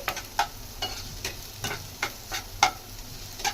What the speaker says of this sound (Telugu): చూడండి, ఆనియన్ కొంచెం ఈ విధంగా మగ్గు.